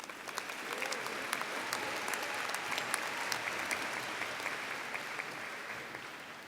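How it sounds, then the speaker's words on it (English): An audience applauds at a college commencement ceremony in San Diego, with steady, fairly distant clapping that fills the hall without a break. "You can clap."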